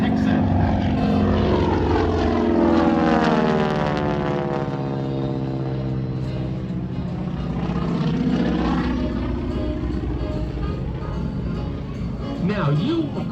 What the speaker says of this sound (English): This airplane is powered by a Pratt & Whitney radial engine.